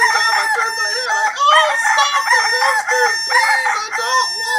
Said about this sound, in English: I hear roosters.